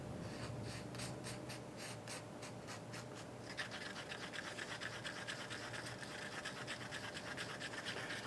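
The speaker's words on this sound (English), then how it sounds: "I got a little popsicle stick here, remember them? And like I say, this has got to be mixed perfect" Epoxy being stirred with a popsicle stick, giving a soft, continuous scraping and scratching that turns into quicker rhythmic strokes partway through, faint and close with no talking.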